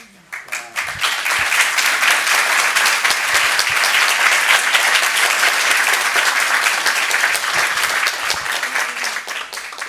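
Sustained, loud applause fills the room at a Burbank City Council reorganization meeting, dense clapping from the audience swelling quickly and holding steady for several seconds before tapering slightly.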